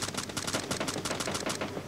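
Rapid automatic gunfire in PUBG, a steady stream of close, loud shots hammering out in a fast even rhythm for the whole stretch, with no talk over it.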